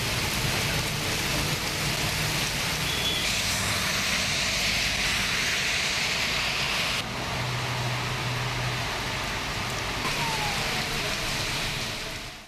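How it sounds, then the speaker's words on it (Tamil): Heavy rain pours down steadily in strong wind around Chennai, a dense, loud hiss that fills the whole stretch with no pauses and only slight shifts in intensity. "சென்னை மற்றும் சுற்று வட்டாரத்தில் பலத்த காற்றுடன் சில இடங்களில் கனமழை கொட்டியது"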